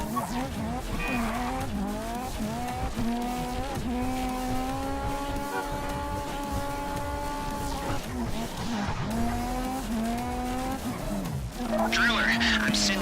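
Engine of a car driven in GTA 5 Online during the Flecca heist, a steady droning tone that rises and falls with speed, with brief tire squeals, under game character dialogue throughout.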